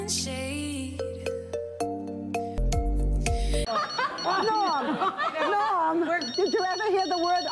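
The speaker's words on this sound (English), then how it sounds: "The phone is ringing." A telephone rings in a sharp repeated pattern of electronic bell tones, followed by a stretch of lively chatter and laughter from several people.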